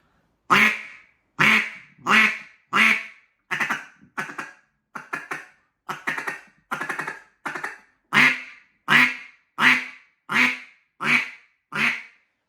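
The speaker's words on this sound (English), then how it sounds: "this thing on the low end, even with very little airflow, sounds awesome for those low end quacks and feeding calls" A J.J. Lares Hybrid duck call blown in a steady series of about fifteen short, nasal low-end quacks, evenly spaced and fairly loud, with no talking.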